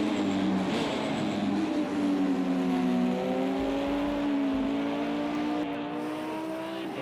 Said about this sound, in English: Just watch this LMP come on down the inside as we complete a lap here with Night Havoc.